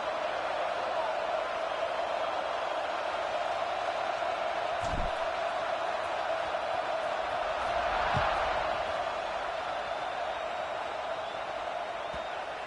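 Steady stadium crowd roar from a college football video game during a kickoff, a continuous loud wash of cheering with a couple of brief thumps.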